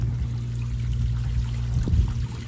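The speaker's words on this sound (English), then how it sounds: "See the water running." Water runs continuously from a dug-up pipe where a tap was removed, with a low, steady gurgling flow and a faint hum underneath, close by.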